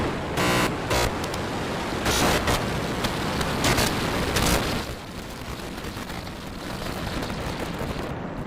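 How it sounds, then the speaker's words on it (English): SpaceX Starship rocket at its fourth launch, a loud broadband roar with crackling bursts through the first half, then easing into a steadier, slightly softer rumble. "We have liftoff."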